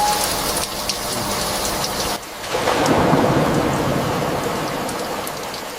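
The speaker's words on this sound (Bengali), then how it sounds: "আজও বৃষ্টি।" Steady heavy rain hisses throughout while a low rumble of thunder rolls in partway through.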